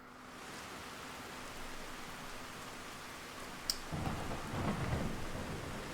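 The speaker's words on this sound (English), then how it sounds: "I think this kind of works for it to be raining." Rain and thunder used as an effect in a fan game trailer edit, a soft steady hiss of rainfall, then a sharp crack followed by a low rumbling roll, with no voices.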